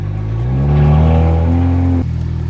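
A burned BMW 335i's engine revs up as it drives forward into a garage, the pitch climbing before the motor cuts off abruptly; close and loud, no talking.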